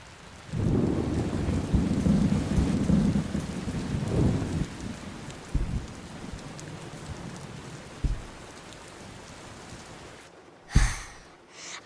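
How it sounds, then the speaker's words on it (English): Steady rain patters outdoors while low thunder rolls and rumbles, followed by several dull knocks and a sharp, brief crack near the end. "I wish it would stop raining so I could go outside."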